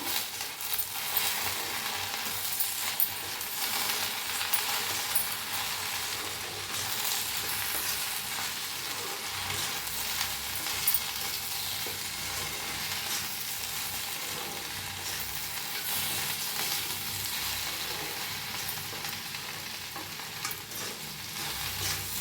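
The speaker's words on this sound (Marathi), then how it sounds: "बघा छान अशी मिक्स करायची" Okra being stirred in a hot pan with coriander powder, turmeric and salt, a continuous close sizzle and frying hiss with scraping stirs throughout, no talking.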